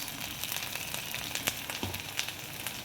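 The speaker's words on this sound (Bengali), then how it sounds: "ততক্ষণ আমি নাড়তে থাকবো।" Ginger and garlic fry in a pan with a steady close sizzle, and a spoon stirring through it gives a few soft scrapes and taps.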